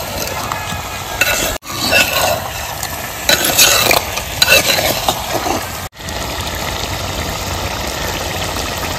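Mutton is stirred as it fries in a clay pot, with repeated scraping strokes over a steady sizzle and two brief gaps in the sound.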